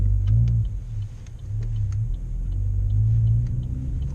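A manual car's engine rumbles low and steady as the driver eases in the clutch and gas, swelling slightly in places, with faint regular ticking clicks above the drone.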